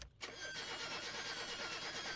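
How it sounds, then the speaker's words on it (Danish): A car engine in the My Summer Car driving game is started with the choke pulled, a brief gap followed by a steady, dense rumble that runs on continuously. "Men kan den her bil starte endnu?"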